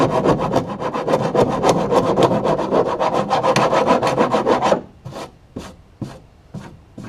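A flat rasp files the wooden transom of a boat in quick, rhythmic strokes, a loud coarse rasping scrape repeated steadily, then sparser, quieter strokes toward the end.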